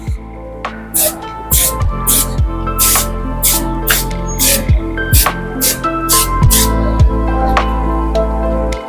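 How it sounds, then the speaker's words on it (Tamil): A spray bottle is pumped repeatedly on a Himalayan 450 motorcycle, giving a string of sharp, close spritzes roughly every half second over a faint background hum. "ஜஸ்ட்டு ஸ்ப்ரே பண்ணால் போதும்."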